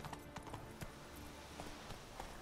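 Hooves of the horse Roach clip-clop in a quick galloping rhythm in the Witcher 3 video game, faint and steady with a few sharper hoofbeats.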